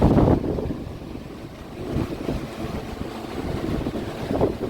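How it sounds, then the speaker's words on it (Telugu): A steady broadband whoosh of a Symphony air cooler's fan running continuously, with a low rumble and no voices. "కూలర్ అయితే ఆన్ అయిపోయింది"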